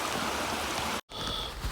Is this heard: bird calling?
no